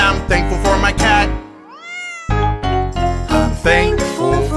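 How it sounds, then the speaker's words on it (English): A single short cat meow sounds in a brief gap within a loud, bouncy preschool Thanksgiving song, with the music resuming right after. "And I'm thankful for my cat."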